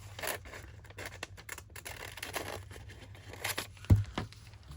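Scissors cut a page from an old magazine, producing faint, scattered snipping and scraping strokes at close range with no talking.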